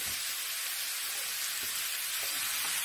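Ginger and onion sizzling in a pan with caramelized pork ribs, an even, steady hiss of frying at moderate volume with no voices.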